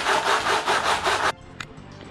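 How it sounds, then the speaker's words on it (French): Back-and-forth sanding strokes level the surface of a handmade armchair built from infant formula tins, loud and rhythmic for about four passes, then stopping abruptly, followed by a faint brief tap. "je vais poncer tout ici pour remettre à niveau"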